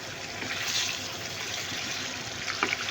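Water is poured into a pan of spicy Bangladeshi duck curry (hasher mangsho bhuna) as the darkened spiced meat cooks, a steady close-up gushing splash under a soft sizzle, with no speech.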